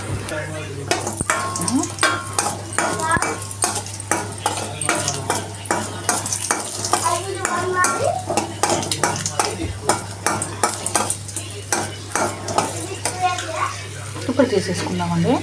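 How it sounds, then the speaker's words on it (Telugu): Dry fruits such as raisins sizzle in oil in a pan for carrot halwa, with a utensil repeatedly scraping and stirring in an irregular rhythm, close and clear, while a person talks over it. "ఆయిల్ వేసాక డ్రై ఫ్రూట్స్ వేయించుకుందామండి."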